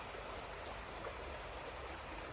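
Water of Leith river in Edinburgh flowing steadily, a constant soft broadband rush of moving water, faint and even throughout with no voices.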